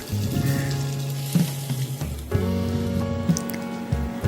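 Chunks of gathi kochu (taro) sizzling and bubbling in hot oil in a home kitchen, a steady close frying hiss with soft squishing and clinks as pieces are lifted out.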